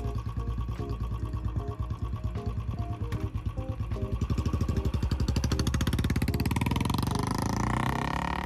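A Royal Enfield Bullet 350 fitted with a modified exhaust thumps at idle with a loud, steady single-cylinder beat, then revs up and the pulses speed into a rising, continuous roar.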